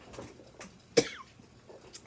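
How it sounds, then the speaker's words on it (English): A single sharp cough rings out close by against a quiet background, with faint breathy sounds before and after, triggered by airborne floss fibers. "the fibers that get in the air just make me cough"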